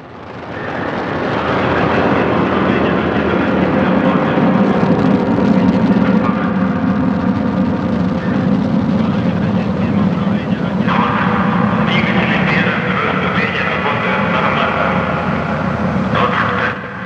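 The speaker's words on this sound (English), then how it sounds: "Liftoff of the 63rd Progress resupply ship, beginning a 2-day trek to the International Space Station" The rocket carrying the 63rd Progress resupply ship lifts off from Baikonur in a sustained, broad, rumbling roar that holds steady for the whole stretch, with a commentator's voice speaking over it.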